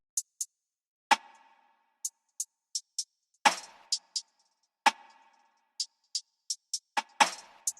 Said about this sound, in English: This is going to be the hat pattern.